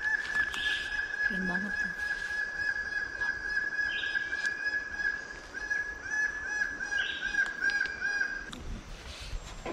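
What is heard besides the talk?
bird-of-paradise calls in the forest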